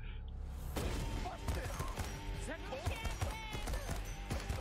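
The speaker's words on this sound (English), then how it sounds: "I think that is a nail gun" A nail gun fires in a video game trailer, sharp thumping shots and impacts punctuating a busy mix of music and effects, fairly quiet overall.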